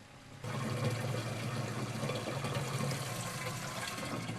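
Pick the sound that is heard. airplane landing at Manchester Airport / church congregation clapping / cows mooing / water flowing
water flowing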